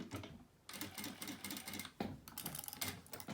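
A sewing machine stitches a fabric placemat in quick rhythmic bursts, a fast needle chatter that pauses briefly twice between runs, close and fairly quiet, with no talk.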